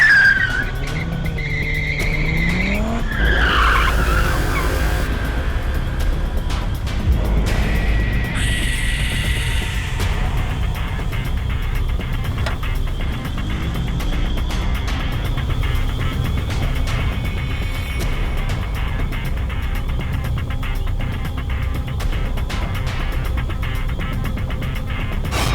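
A car speeds with squealing, skidding tires, sharp screeches in the first ten seconds giving way to a continuous loud engine and road roar as it races along.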